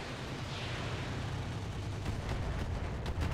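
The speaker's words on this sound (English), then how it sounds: "It's a lot of machine guns." Rapid machine-gun fire in the Roguetech BattleTech mech game, a dense, continuous rumbling barrage of overlapping shots filling the whole stretch with no talking.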